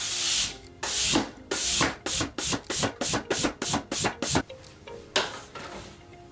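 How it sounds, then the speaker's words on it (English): Quick hand strokes rubbing rubber twisting balloons, a run of about a dozen rhythmic squeaky swishes close up, speeding into a fast regular burst before slowing to a few final rubs, with no voices. "If you rub the balloons quickly with your hand, they'll create static electricity and can stick to ceilings and walls."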